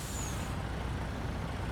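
A truck's air brake in Farming Simulator 19 releases a sharp hiss at the start, followed by a steady loud engine and air noise without talk.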